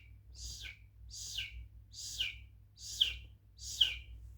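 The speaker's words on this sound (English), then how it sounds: "A chick is called siminyui, and the sound it produces is called hutwila. Hutwila is chirping." Baby chicken chick chirping, five evenly spaced high, clear descending peeps roughly a second apart, near and distinct over a steady low hum, with no talk.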